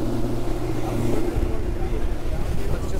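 Water rushes steadily past the hull of an Axopar boat driven by an Evoy Storm 300 electric outboard at speed, a loud continuous wash over a low droning hum, with no engine roar.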